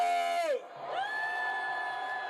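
Crowd at an anti-impeachment rally at Park Chung-hee Plaza by Dongdaegu Station in Daegu, shouting and cheering together: a loud sustained roar of voices with a long shouted vowel that drops, then rises into continued massed yelling.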